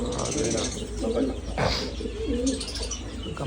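White pigeon chicks coo softly in low, burbling bursts at a pet market in Oman, with murmuring voices and market bustle running underneath.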